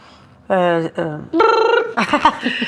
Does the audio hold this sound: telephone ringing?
yes